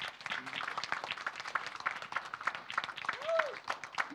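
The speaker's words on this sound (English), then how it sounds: "Can we just give a warm round of applause for Professor Ella Henry?" A research symposium audience gives light, scattered applause, fairly quiet and uneven, with a voice speaking briefly over the clapping.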